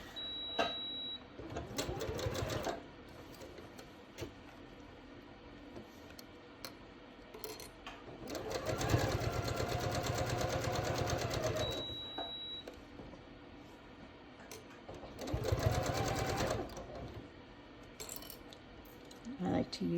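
Sewing machine stitching a curved seam in short close bursts of rapid mechanical whirring, separated by quiet pauses with small clicks and handling noises.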